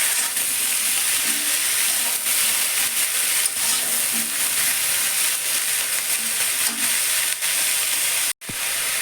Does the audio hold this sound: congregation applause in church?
no